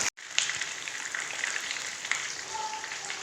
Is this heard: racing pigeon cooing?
no